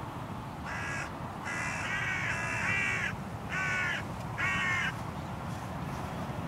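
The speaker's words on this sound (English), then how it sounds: "the hooded crows spot my decoy setup and give me a noisy flyby" Several harsh caws from hooded crows in a series of bursts, moderately near, over a low steady background rumble.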